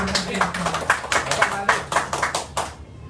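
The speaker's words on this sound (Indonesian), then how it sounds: "Ya, beri tepuk tangan dulu dong buat Pak Abdi." A brief burst of hand clapping from a small group, quick and uneven, fading out after about two and a half seconds.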